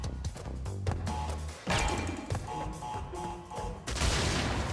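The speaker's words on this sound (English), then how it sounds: "What are you shooting at? Take some pride in shooting me." Gunfire from a hitman enemy in Crash Bandicoot N. Sane Trilogy, loud repeated bursts of shots and crashing impacts over game music, with a heavier blast near the end.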